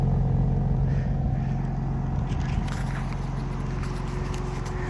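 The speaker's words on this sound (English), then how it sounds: "Let's see if we can hear anything on the exhaust a little bit." A 2026 BMW M2 CS exhaust rumbles at a steady low idle, close by and continuous, with no one speaking over it.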